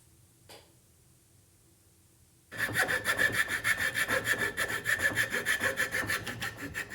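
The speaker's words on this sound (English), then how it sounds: "Now I'm just going to use the bandsaw to remove these" A bandsaw cuts through a carved wooden wigeon drake decoy head, a faint tap first, then a steady loud rasping cut with a rapid pulsing texture that carries on to the end, with no talk.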